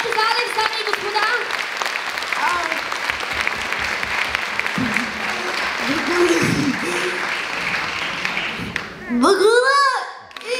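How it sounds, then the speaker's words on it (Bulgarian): Loud, continuous audience applause for a young performer named Alex at a 2024 Christmas celebration, dense clapping running steadily for about nine seconds, with children's voices heard faintly within it and a voice speaking up near the end. "Вашите силни аплодисменти за Алекс"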